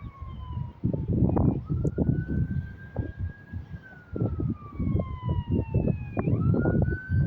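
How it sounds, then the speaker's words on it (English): Several emergency vehicle sirens, police-type wails, pass by on a street in Ogden, Utah, near a grain co-op, rising and falling in pitch. Loud traffic rumble and engine noise continue beneath them throughout. "we gotta get the sirens in."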